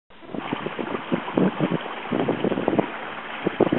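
A sailboat beats to windward on a lake at about 5 knots, wind buffeting the microphone in uneven gusts over splashing water against the hull, loud and close.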